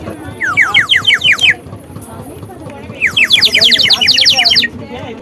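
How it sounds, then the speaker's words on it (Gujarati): A toy bird whistle gives two loud, close bursts of quick sparrow-like chirps, with a short pause between them. "હવે ચકલીનો અવાજ"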